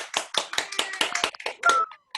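Scattered claps from a few concert participants on a Zoom call, uneven and overlapping, some sharp and close, others thin and compressed, with brief tonal bleeps between them.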